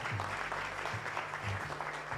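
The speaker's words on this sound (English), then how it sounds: "Can we give another warm round of applause to our chief guest" A seated audience at a Kenyan bank's sustainability report launch gives a steady round of applause for the chief guest, dense, even clapping throughout.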